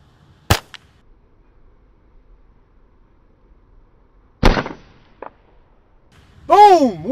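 A .22 pistol firing at an aspirin outdoors, with two sharp separate shots several seconds apart, a brief echo after each, and a short voice at the end.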